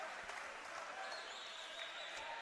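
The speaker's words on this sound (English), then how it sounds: "it's frenetic here, and the crowd is really turning up the energy" Crowd cheering and applauding during a youth basketball semi-final between the Hills Hornets and Central Coast Crusaders, a steady broad roar that fills the hall without pause.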